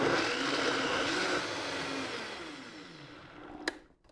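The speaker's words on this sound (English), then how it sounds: "Make sure you plug the blender." A blender whirs through zucchini and sweet potato sauce in a loud, steady grinding drone that slowly winds down and cuts off near the end, followed by a brief clack.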